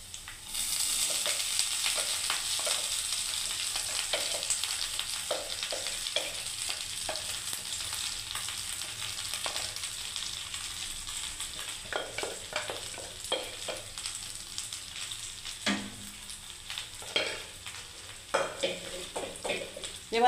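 Cooked rice for lemon rice is stirred and fried in a pan, giving a continuous bright sizzle with repeated scraping and clicking strokes of the spatula, growing busier toward the end, with no talk.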